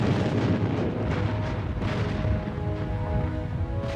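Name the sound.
cannon fire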